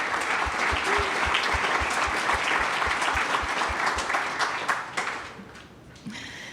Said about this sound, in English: can you raise your hand and give a round of applause for them as well?